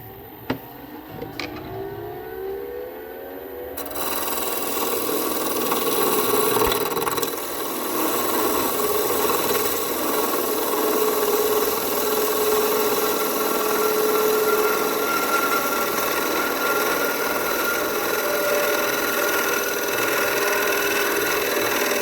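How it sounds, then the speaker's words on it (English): Wood lathe turning a tenon with a beading and parting tool: after a few seconds of quieter spinning, the cut starts as a steady, loud, scraping rasp of the tool against the wood that continues to the end. "Use a beading and parting tool to make myself a little tenon."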